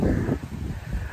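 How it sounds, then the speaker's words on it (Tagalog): Gusty storm wind in Cebu buffets the microphone with low rumbling roar and breathy rustle throughout, loud and close. "mahangin"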